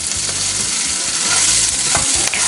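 Chopped okra is tipped into sizzling onion masala in a handi and stirred, giving a loud, close crackle of frying with scraping spoon strokes through the spices.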